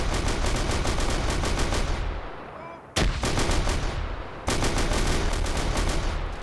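Dense rapid automatic gunfire in a sci-fi drop-trooper battle, with bursts chattering almost continuously, a brief lull, then sharp loud volleys resuming.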